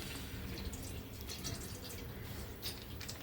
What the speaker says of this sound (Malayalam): അപ്പൊ നമ്മള് പാല് ഒഴിച്ചു കൊടുക്കാം കേട്ടോ.